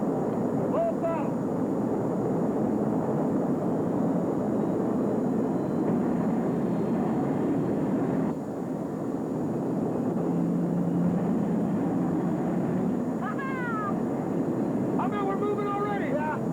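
A boat engine roaring steadily at full throttle after ignition, a loud, continuous rumbling thrust with wind buffeting the microphone, while excited voices shout over it.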